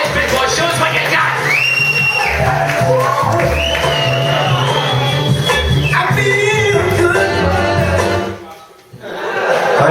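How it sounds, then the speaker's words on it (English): A pub comedy-night audience at The Engine Rooms in Skelmersdale cheers, whoops and yells loudly and continuously as a first-time stand-up comedian takes the stage, the roar dropping away briefly near the end before swelling again. "That was a lovely applause"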